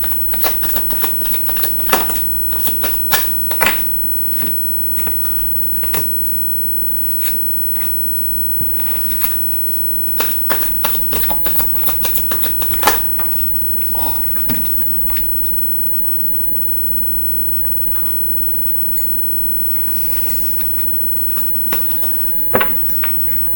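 Tarot cards shuffled and drawn from the deck by hand, a steady run of crisp riffling flicks and soft slaps at close range, with brief pauses between bursts and no talking.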